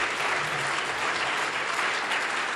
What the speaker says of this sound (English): clap, applaud for them.